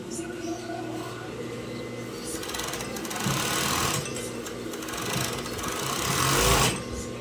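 Pegasus industrial sewing machine test-run on scrap fabric, a fast continuous mechanical whir rising and falling in short surges, with people talking nearby.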